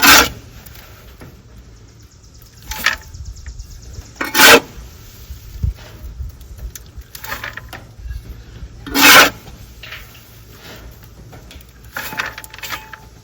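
Wood shavings scooped out of a rabbit cage, giving repeated dry scraping and rustling bursts at irregular intervals up close, with quieter shuffling between them.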